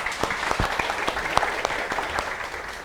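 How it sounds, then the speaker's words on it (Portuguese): Audience applause at a lecture-style community gathering, a dense, steady patter of many hands clapping throughout with no talking over it. "Uma salva de palmas para ela."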